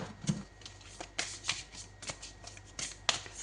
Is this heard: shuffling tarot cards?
yes